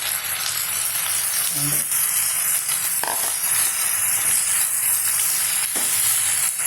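Cucumber pieces hit a hot pan with dried fish and fry in a steady, close sizzle with faint stirring scrapes, alone without talk.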